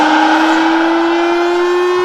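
A civil defense siren sounding during a mock drill, one loud, steady sustained tone held without a break, close and dominant over faint background noise.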